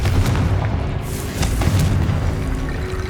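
In the Hogwarts Legacy video game, a Confringo fire spell explodes as a loud, deep boom with a rumbling, crackling tail that stays heavy for several seconds.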